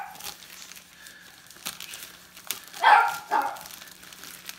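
A dog barks a couple of times at moderate distance amid crinkling and rustling of packaging during an unboxing, with no talking.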